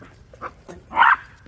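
Reese, a dog out on a walk, gives a few short, sharp barks and yips close by, with a louder bark near the end and quiet gaps between.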